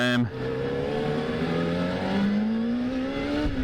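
A smooth, steady four-cylinder Kawasaki ZZR400 motorcycle engine hums close by, its pitch rising gradually as it gains speed after a brief dip at the start.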